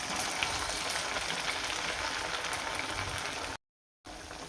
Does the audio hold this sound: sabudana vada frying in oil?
yes